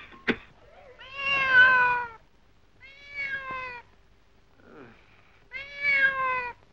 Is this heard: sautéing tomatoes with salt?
no